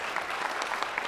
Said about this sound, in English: Everybody give Sammy a round of applause